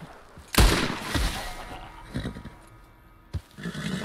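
A single loud gunshot cracks nearby in a Wild West video game, followed by lower rumbling thuds and a second sharp, shorter shot near the end.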